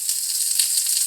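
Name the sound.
eggplant searing in oil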